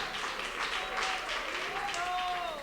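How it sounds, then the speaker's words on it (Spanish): A church congregation claps for Christ during a Spanish-language worship service, a dense, steady wash of applause that runs the whole moment, with raised voices and cheering mixed in over the clapping. "le dé esas palmas bonitas a Cristo, esas palmas alegres al Rey de Gloria"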